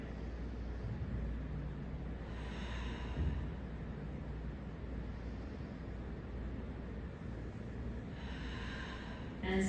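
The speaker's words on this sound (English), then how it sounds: "Take 2 breaths here." Slow breathing while resting in a Pilates pose, faint and close, with two soft breath sounds about six seconds apart and a quiet room hush between them.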